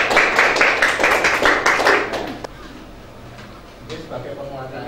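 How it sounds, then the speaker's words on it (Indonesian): A small classroom group claps for a presenting student team, a short burst of rhythmic hand claps lasting about two seconds before a voice takes over. "tepuk tangan buat kelompok 1"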